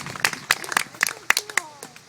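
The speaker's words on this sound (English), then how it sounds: "Give her another big round of applause" Sparse, distinct hand claps from a small audience at an educational reptile and critter talk, a few separate claps spaced out over about two seconds with faint voices underneath.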